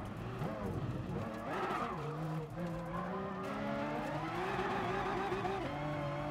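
In the racing game GT Sport, car tires screech under hard braking while an engine whines and shifts pitch, a continuous loud squeal layered over the motor for several seconds.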